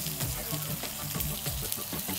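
Chopped ginger and green chillies sautéing in a pan: a continuous close sizzle with bubbly, watery crackle and faint stirring scrapes, no talk.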